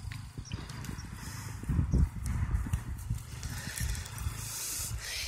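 A horse being ridden and turned in a spin, its hooves clopping in a dense, busy rhythm on the ground, fairly close, with a brief louder patch of stamping midway and no talking.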